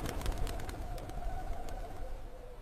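Pigeons coo on a bare statue pedestal on a frosty winter day in Paris, a steady, fairly close burble of soft calls running continuously over faint background noise.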